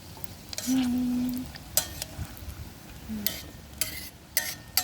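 Dried soya beans frying in a pan, a low sizzle broken by several bursts of stirring and scraping, close by with no talk.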